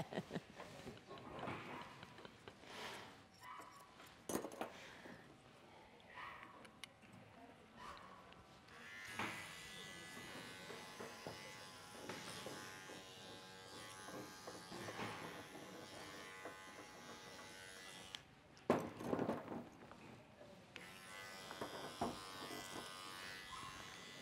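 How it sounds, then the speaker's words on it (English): A cordless clipper buzzes while grooming a Shih Tzu, a steady electric hum that drops out and returns in stretches, heard under a person talking at a grooming class. "You need your cordless clipper."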